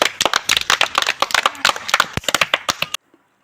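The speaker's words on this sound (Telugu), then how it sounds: "క్లాప్స్." Children clap in an uneven burst of sharp, close hand smacks for about three seconds, then stop abruptly into near silence.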